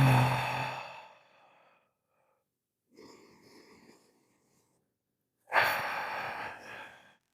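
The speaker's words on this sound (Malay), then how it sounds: "Cuma tarik nafas lebih panjang" Long, deep breaths in and out, close to the mic: an audible exhale fading away, a quieter drawn breath, then another strong breathy inhale that tapers off, with silences between.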